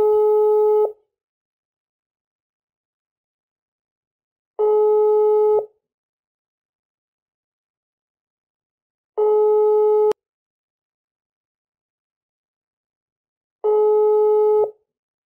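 Telephone busy signal on an unanswered call, four identical loud beeps roughly a second long, evenly spaced about four and a half seconds apart with silence between them and no voices.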